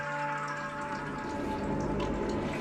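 A stream of water flows steadily through an enclosed cave in the game Sisyphus Reborn, a soft, continuous wash of running water with a faint low hum beneath it, no voices.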